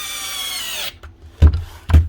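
A demolition hammer power tool runs with a loud, close, buzzing whine for about a second, then cuts out and delivers two heavy, separate thuds.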